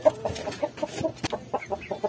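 A brood hen clucks up close in short, quick bursts, a run of soft repeated calls with brief pauses, set among other fowl in a rooster-keeping yard.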